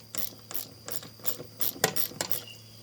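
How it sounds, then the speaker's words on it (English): Hand ratchet with a 3/8 socket loosening bolts on a Scag Tiger Cat mower, giving bursts of rapid clicking close up, about six short runs separated by brief pauses. "I know y'all don't want to sit here and watch me undo all these 3 bolts"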